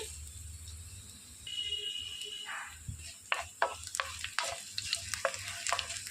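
Mustard seeds hitting hot oil for a tamarind-leaf and onion curry set off a steady close sizzle that swells partway through, joined by sharp popping crackles and utensil clicks toward the end.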